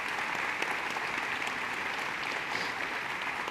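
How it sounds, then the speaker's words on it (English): An audience applauds the panelists at a public forum on the future of USMCA for Southern Arizona, a steady wash of many hands clapping throughout, fairly distant and even in level. "Please help me in giving them a big round of applause."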